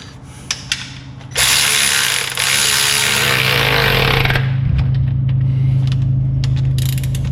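A ratchet and tool snug down bolts on the engine of a 1966 Plymouth Belvedere, with a few sharp clicks followed by a loud, sustained mechanical whirring close by.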